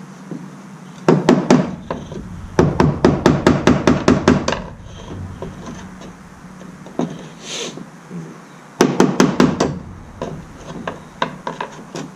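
A hammer knocks around the fuel pump lock ring on a Ford Ranger fuel tank, with quick bursts of sharp, close metallic taps separated by short pauses and some quieter scraping between them.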